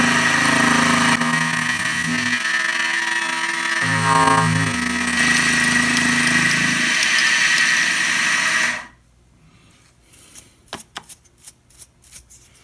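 A Model 6450 mini mill runs an end mill at about 1600 RPM with a loud, steady whirring drone that changes pitch as it cuts, then stops sharply, leaving a few scattered clicks and taps.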